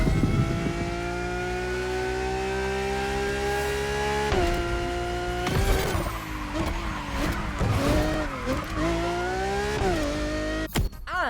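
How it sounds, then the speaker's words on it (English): A Lamborghini in The Crew Motorfest racing game with its engine revving hard, a loud rising whine broken by gear shifts, with brief tire squeals and skids toward the end. "Sticking on Lamborghinis, this thing has quite the engine sound."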